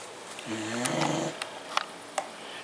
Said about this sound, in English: So Angus is snoring as usual